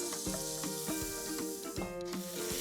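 Garlic and cashews sautéing in a pan as half a cup of water goes in for Gujarati sev khamani, a steady loud sizzle with rhythmic stirring scrapes throughout.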